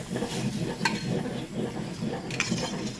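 Nigella seeds (kalonji) tossed into hot oil and stirred, giving a steady close sizzle with scraping stir strokes and a couple of brief metallic clinks.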